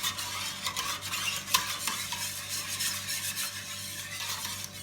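A spoon stirs a cornstarch-thickened mouhallabié milk mixture in a pot, making continuous close scraping and swishing strokes with one sharper clink near the middle, and no one speaks.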